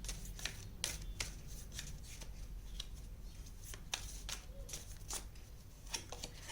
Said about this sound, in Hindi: एक लास्ट कार्ड और ले लेते हैं